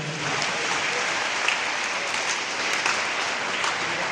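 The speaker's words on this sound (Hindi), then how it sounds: "एक बार जोरदार खुद के लिए जोरदार ताली।" An audience at a seminar or gathering breaks into dense, continuous applause at steady volume, a close wall of many hands clapping with no one speaking.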